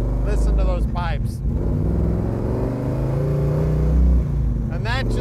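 A 1970 Chevrolet Chevelle convertible's deep, rumbling V8 exhaust idles and swells with a short rev, loud and close, while a person talks over it at the start and end.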